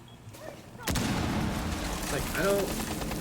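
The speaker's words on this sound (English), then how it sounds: "A lot of back and forth gunfights going on between Quid and MacD." Video game gunfight gunfire, a sudden loud burst of shots that then keeps rattling on, heard under a commentator's voice.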